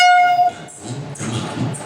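At Agra Cantt railway station a train gives a short, loud horn blast, then a lower rumble of rolling wagons and platform noise follows.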